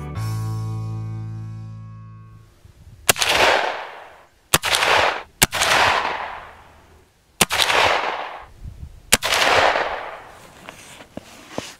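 Six sharp, loud rifle shots ring out from a Marlin 336Y lever-action at an outdoor range, each crack followed by a long rolling echo, spaced irregularly a second or two apart after a brief low hum.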